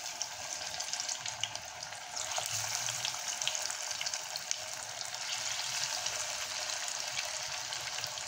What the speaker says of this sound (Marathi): आता आपण लो टू मीडियम गॅसवरती छान असं खरपूस होईपर्यंत तळून घ्यायचं आहे.